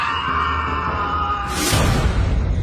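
A man jolts awake from a nightmare with a sudden, loud scream that rises out of a droning, tense background and fills the end of the moment.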